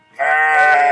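Sheep bleating during shearing: one loud, close, sustained bleat with a rising onset that fills the whole moment.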